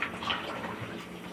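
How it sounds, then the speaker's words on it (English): Cold tap water runs and splashes over rice being rinsed in a pot, a continuous close, hissing wash with a brief stir of grains. "So now I'm rinsing the rice on the cold water"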